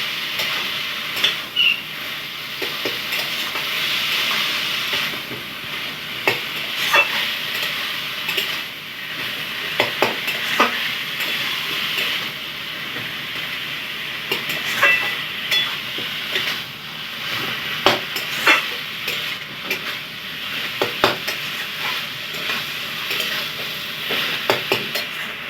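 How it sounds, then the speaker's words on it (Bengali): Vegetarian papaya curry is stirred in a pan after garam masala powder goes in: a continuous sizzle with irregular scrapes and taps of the spatula against the pan, fairly loud and close. "এবার দেওয়া হচ্ছে গরম মশলার গুঁড়ো, দিয়ে ভালো করে একটু নাড়িয়ে নেওয়া হচ্ছে।"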